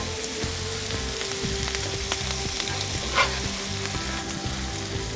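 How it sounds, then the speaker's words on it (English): Onions frying in bacon fat in a skillet give off a dense, steady crackling sizzle up close, with a brief louder scrape of stirring partway through and no voices. "Get this onions over here to try and soak up some of this bacon fat."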